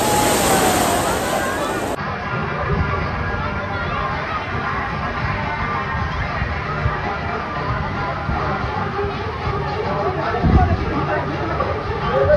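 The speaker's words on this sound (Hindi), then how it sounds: "लहरें उठा रहे हैं ये।" Artificial waves rolling through a shallow water park wave pool, a steady wash of surf and splashing under a busy crowd babble, with people talking throughout.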